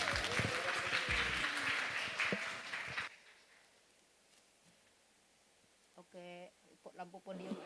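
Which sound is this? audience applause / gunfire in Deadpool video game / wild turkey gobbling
audience applause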